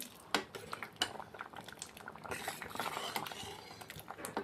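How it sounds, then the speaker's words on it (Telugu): Cooked tomato dal mashed in a metal pot, with soft scraping and light clinks of a utensil against the pan, quiet and irregular, with no speech. "దీన్ని ఇప్పుడు మనం స్మాష్ చేసుకుందాము"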